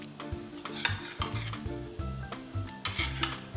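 A spoon scrapes and clacks against a bowl while stirring homemade unicorn slime, making irregular rhythmic strokes at close range with no voices.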